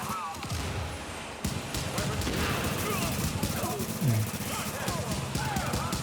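Weapon fire in the video game The Division, a steady stream of fast repeated shots with heavy thumps, loud and continuous through most of the stretch under ambient game noise.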